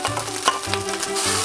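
Carrots and peas frying in a pan for Vietnamese fried rice give a close, steady sizzle with occasional scraping stir sounds and a low background hum.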